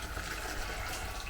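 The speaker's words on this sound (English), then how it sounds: "to the bowl I'm going to add some boiling water, and I'm going to make sure that I cover the peas completely" Boiling water pours steadily into a bowl of black peas, a short continuous splashing rush heard close up with no talking.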